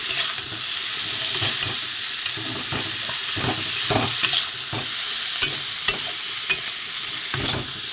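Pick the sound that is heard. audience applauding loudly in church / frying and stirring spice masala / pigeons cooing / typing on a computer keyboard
frying and stirring spice masala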